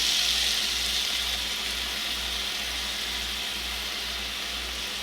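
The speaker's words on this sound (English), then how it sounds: "we're going to go ahead and add in our water, some lemon juice" Water and lemon juice poured into a pan while cooking chipotle steak bites, a steady broadband splashing and hiss that runs the whole time under a low constant hum, with no talking.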